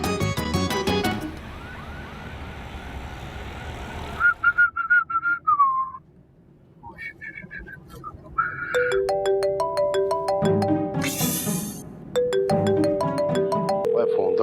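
A phone's melodic ringtone chimes in repeating tonal phrases, loud and close, mixed with other tones and sounds before it settles into its pattern.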